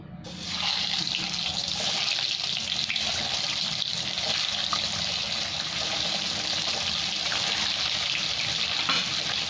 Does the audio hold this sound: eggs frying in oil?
yes